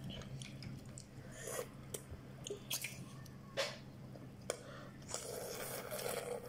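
A person eats spicy noodles during an eating challenge, giving soft, wet chewing, slurping and scraping sounds at close range in irregular bursts, with no speech.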